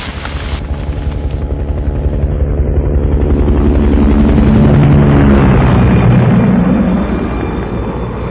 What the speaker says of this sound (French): Attendez, c'est quoi ce bruit? Scheiße, un hélicoptère.